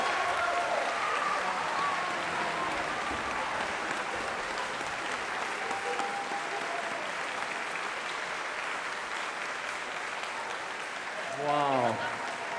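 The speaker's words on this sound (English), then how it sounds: "How about another round of applause?" A concert audience applauds after the university band's finale, the soft, even clapping spread across the hall and continuing throughout. A voice speaks briefly over the clapping, with a louder vocal cue near the end.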